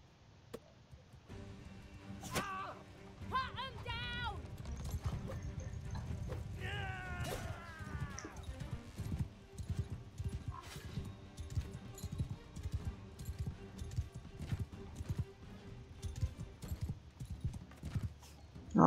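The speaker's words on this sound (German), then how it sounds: "Mein Pferd ist nicht so schnell." Hooves clip-clop rapidly as a horse gallops in the video game Mount and Blade II Bannerlord, a steady drumming rhythm over battle noise, with a brief whinny and faint voices in the mix.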